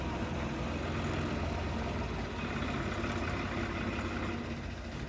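Engine of a wheat threshing machine running in a farmyard, a faint steady low drone with no talk.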